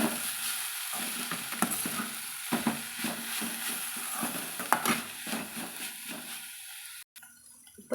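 Coriander stems and garlic cloves sauté in a pan, a soft continuous sizzle broken by repeated scraping and stirring clinks of a spoon against the pan, ending in a sudden drop to quiet.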